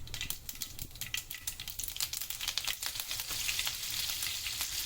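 Fenugreek seeds and curry leaves sizzling and crackling in hot oil for a South Indian fish curry, a close, busy frying patter with sharp pops that grow into a steadier hiss.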